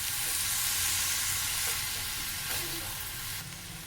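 Soy sauce, vinegar and chili sauce are stirred through vegetables in a hot pan, giving a loud, close, continuous sizzle with faint stirring scrapes and no talk.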